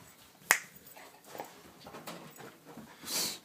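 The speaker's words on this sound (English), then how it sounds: "Sorry, dogs again." A sharp snap followed by a dog's soft whimpering and panting nearby, with faint scuffling in a quiet room.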